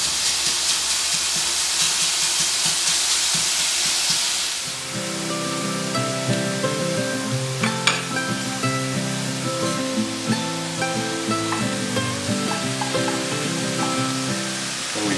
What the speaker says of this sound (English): you want to keep moving the chorizo around to make sure that it's all broken up into small pieces